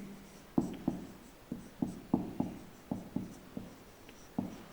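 Handwritten notes on a temperature lesson, with roughly a dozen distinct pen or chalk strokes tapping out in an uneven rhythm, close and moderately loud over a quiet room hiss, with no talking.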